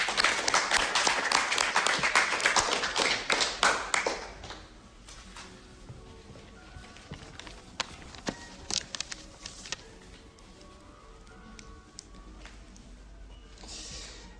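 An audience at a stamp unveiling for Sophie Taeuber-Arp's artwork gives a short round of moderate applause that quickly thins to a few scattered claps and quiet room noise.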